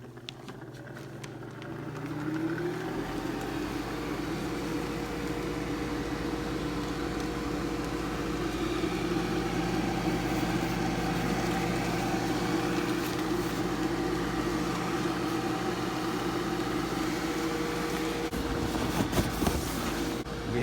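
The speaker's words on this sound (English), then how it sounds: "an exhaust fan that came out of a central heat unit" An exhaust fan motor salvaged from a central heating unit starts up and settles into a steady droning hum with a faint whine, running continuously at moderate level before a brief rattle near the end.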